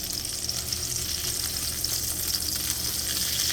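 Salisbury steak patties sizzle and spit steadily in a hot frying pan as they are turned over, a close, continuous frying hiss with no talking.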